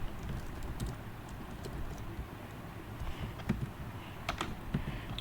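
Keys clatter on a computer keyboard as JavaScript code is typed, a quiet, steady stream of taps with occasional sharper strokes and no voices.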